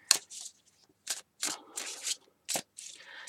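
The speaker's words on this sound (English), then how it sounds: "I'm just going to shuffle these" A deck of Everyday Witch Tarot cards is shuffled in short bursts, crisp riffling and slapping strokes separated by brief pauses in a quiet room.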